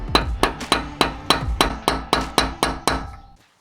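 Eleven light, evenly spaced hammer taps ring on a 30 mm socket set on a piece of wood, sharp and close with a short metallic ring, fading softer toward the end before falling silent.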